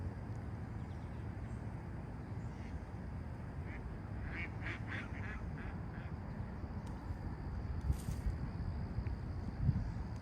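Several ducks on a street in North Bay quack in short clustered bursts at middle distance, faint over steady outdoor background noise during a walk.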